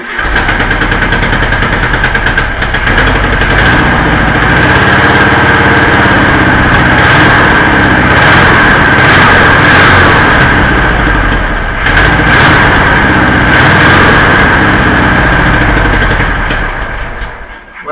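A 1964 VW Beetle engine runs continuously and loudly up close, a steady air-cooled putter with slight surges and one brief dip partway through, struggling to hold an idle.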